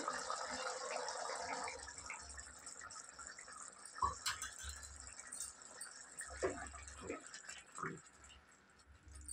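Tamarind juice is poured into a taro curry, a soft close gushing splash of liquid at the start, faint and brief, followed by quiet kitchen sounds while a person talks.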